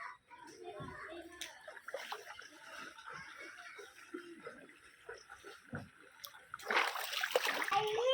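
Flood water splashing around and into a house, with irregular splashes and sloshing at moderate distance, building into a louder burst of splashing near the end while voices talk in the background.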